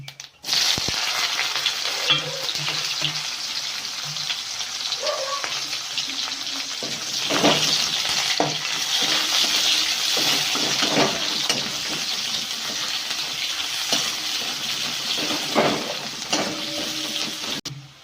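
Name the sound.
chopped onions frying in oil with dried chillies and cumin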